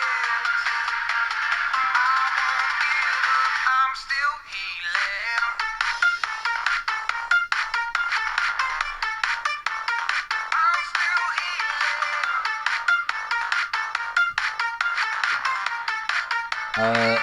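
Recorded music plays for about seventeen seconds through the small 1-watt speaker of an M5Stack Core 2 set to half volume, steady and fairly loud with a thin, tinny tone and no voices.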